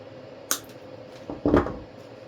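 A single sharp snip of scissors cutting a stem for an artificial purple and white wreath, followed by a brief rustle and a second crunchy cut, close by in a quiet room.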